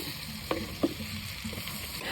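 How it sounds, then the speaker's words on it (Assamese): Frying bhaji snacks in a pan at an outdoor New Year picnic, a soft continuous sizzle with a couple of faint clinks from stirring, heard at low level throughout. "আমাৰ পেটু ভাজি বনি আছে দেই"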